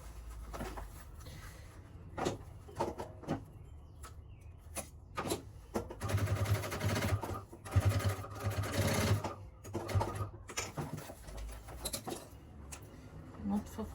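A sewing machine with an automatic thread cutter stitches a zippered pouch in short bursts of rapid mechanical whirring, broken by pauses, clicks and handling noise, with a voice speaking intermittently.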